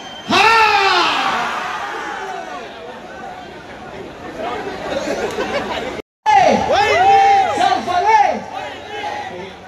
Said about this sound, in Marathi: तुमचा जल्लोष बघून खूप मजा येते